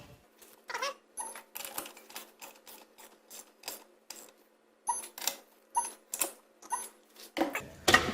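A socket wrench on a 6-inch extension ratchets on engine shroud bolts of a Toro engine, giving a series of sharp clicking bursts in uneven groups, close by and fairly quiet.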